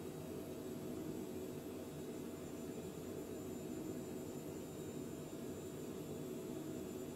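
An airplane engine in Microsoft Flight Simulator 2020 on Xbox drones steadily during a climb, a constant broad roar that holds level throughout, with no talking.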